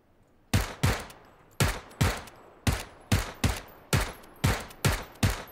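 Eleven sharp gunshots ring out in PUBG (PlayerUnknown's Battlegrounds), fired in quick irregular pairs and singles, each a loud close crack with a short decaying tail, no voices over them.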